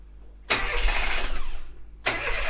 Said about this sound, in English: will you just start the engine just ever so quickly?